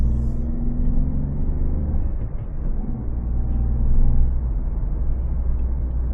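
A 2025 Citroën C3 with the 1.2 PureTech 100 hp engine and 6-speed gearbox, heard from inside while driving at night, gives a steady low engine rumble and road drone that swells briefly as it accelerates.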